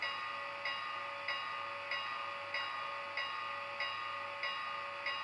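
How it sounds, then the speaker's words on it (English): Bell ringing from an Athearn model Northern #844 steam locomotive with a Tsunami sound decoder, steady evenly spaced strokes about every 0.6 seconds, close and clear over a faint background hiss, no talking. "So here's the bell."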